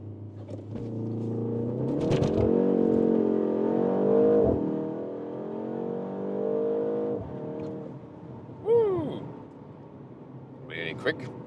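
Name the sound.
BMW M135 launch control acceleration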